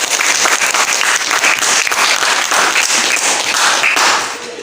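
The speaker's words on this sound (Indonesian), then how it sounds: "Tepuk tangan dulu." Classroom applause fills the room, a dense and steady burst of many hands clapping close by that keeps going throughout and fades slightly at the end.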